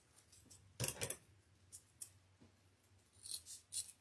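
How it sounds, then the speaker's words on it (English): Scissors snipping evergreen sprigs while building a St. Patrick's Day wreath, a pair of crisp close cuts followed by several lighter snips and rustles in a quiet room. "This one I'll cut a little."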